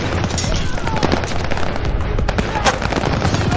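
Machine gun fire from a World War II firefight in Call of Duty Vanguard, heard as dense, continuous rattling bursts mixed with other battle noise and booms, loud and steady throughout.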